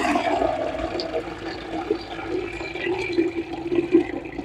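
Water pours over millet pap grains in a sieve, a continuous close rushing and splashing that rises and falls over a few seconds.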